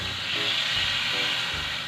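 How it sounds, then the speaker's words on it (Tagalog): Water poured into a hot cooking pan while making chicken feet adobo hits with a loud, sustained sizzling hiss that stays steady and close for the whole moment. "Tapos lagyan na natin ng tubig galing sa nawasan"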